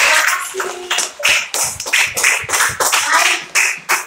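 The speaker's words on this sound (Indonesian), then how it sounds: "Baik, tepuk tangan." A classroom of students claps their hands in a rapid, uneven burst of sharp claps, close and loud, with a few pauses between flurries.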